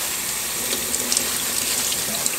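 Tap water runs steadily over tie-dyed fabric during rinsing, a constant close hiss and splash with faint drips, heard alone.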